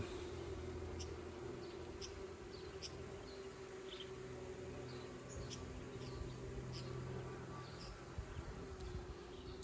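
Honeybees buzz around an open hive during spring queen raising, a steady, close drone of many wings filling the whole stretch with no talk.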